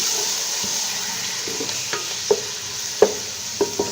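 Chicken sizzling in a pan of golden fried onions, a soft steady fry with several sharp spoon taps and scrapes against the pan as it is stirred, close up and without speech.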